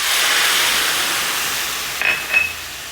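Brandy, a quarter cup, goes into a hot pan of sautéed ingredients for a bistro-style steak cream sauce, giving a steady soft hiss and sizzle followed by two brief clinks of utensil on pan near the end.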